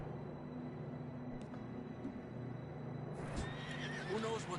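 Horses in the Red Dead Redemption 2 video game whinny and snort over a steady outdoor ambience, with a louder neigh near the end and faint hooves shuffling, no talk heard.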